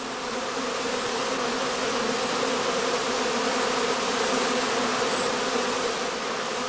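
Honey bee foragers swarming at the entrance of a straw skep on a northern German heathland, a dense steady buzzing drone, close and continuous without pause.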